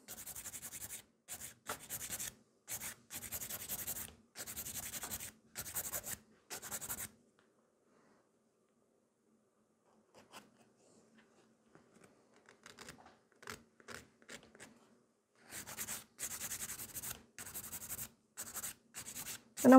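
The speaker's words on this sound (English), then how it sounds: "I'm working with the both sides of the file equally, like the 100 grit takes more product off and 180 less product off." A nail file with 100 and 180 grit sides works a gel nail in close, quick scratchy bursts of rubbing strokes, pausing for several seconds midway before short strokes resume, with no talking.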